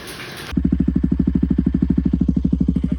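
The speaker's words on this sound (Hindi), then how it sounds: "तो बाइक हमने ऑन कर रखी" A motorcycle engine idles steadily after a brief burst of noise, its rapid rhythmic chugging close and loud throughout.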